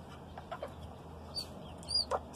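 Hens with newly hatched chicks make a few soft clucks and high thin peeps, scattered and brief over a quiet background.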